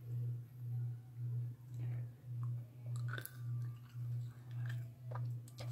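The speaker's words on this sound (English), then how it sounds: "I'm going to eat one." Food being chewed close up, a steady rhythmic munching with about eleven even bites repeating through the stretch, plus a few faint small clicks; no talking.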